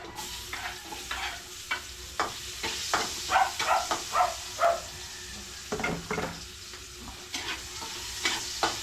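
Onions sautéing in a pan, a continuous sizzle broken by regular scraping strokes of a spatula, close and fairly loud with no talking.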